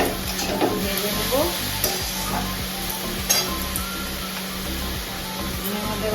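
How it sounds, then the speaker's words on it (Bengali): Chillies sizzle steadily in hot oil in a pan, a constant frying hiss with soft scraping and occasional clinks from a spatula stirring throughout. "ভেজে নেব।"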